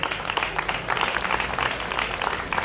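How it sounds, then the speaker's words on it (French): An audience in a plenary hall applauds a speaker at an event on international solidarity. The clapping is dense and continuous from start to finish, with no voice over it. "on peut l'applaudir effectivement"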